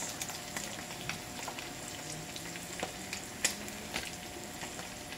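Pechay greens drop into a pot of hot oil, giving a steady sizzling hiss of frying throughout with a few sharper crackles and pops, fairly close and moderately loud, with no talking.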